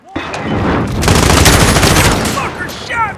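Rapid automatic gunfire in Call of Duty Modern Warfare (2019) multiplayer, loud and close, with dense bursts of shots rolling continuously and brief sharp cracks toward the end.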